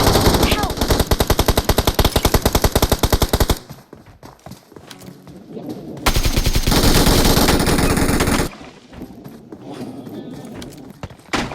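Automatic gunfire in the mobile battle game BGMI (PUBG Mobile) rattles in rapid, loud bursts, one long stream, a pause, then another sustained burst near the listener, with a voice briefly heard in the gaps.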